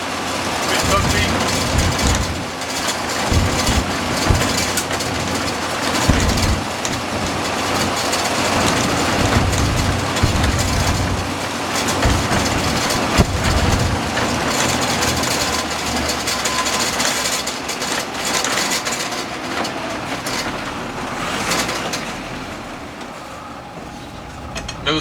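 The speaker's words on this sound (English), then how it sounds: "This is a gravel road I'm on." A 1963 Land Rover Series 2a engine drones steadily while driving on a gravel road, with rumbling tyres and rattling cabin noise throughout, close and loud, and someone talks over it.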